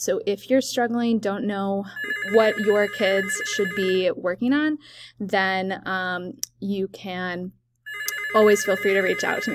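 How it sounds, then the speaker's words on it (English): A mobile phone rings with a repeating electronic ringtone, its bursts sounding over and between a woman's steady speech close by. "Sorry, that's my phone."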